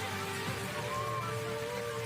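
Dense, steady heavy rain pours down in a storm with strong wind in Indonesia, a continuous broadband hiss, with faint tonal hums running underneath.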